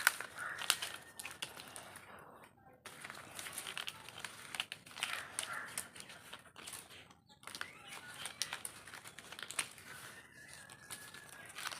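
A coconut palm frond crinkles and snaps softly as it is folded and bent while being woven, giving quiet, close, irregular rustles and crackles with brief pauses between them.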